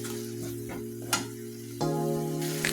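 Onions with turmeric powder fry in a pan while a utensil stirs them. Soft scrapes and a light sizzle sit over a steady tonal hum, with no talking.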